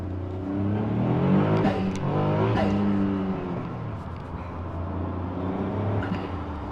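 A Caterham 170R sports car engine pulls through the gears while driving on the road, revving up in rising sweeps, shifting, and settling to a steady drone, heard close from inside the car.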